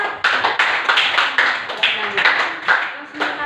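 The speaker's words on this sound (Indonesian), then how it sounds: "Oke, beri tepuk tangan untuk Indah." A small group of students claps for a classmate in a university micro-teaching class, a few seconds of irregular, fairly close hand claps with voices talking over them.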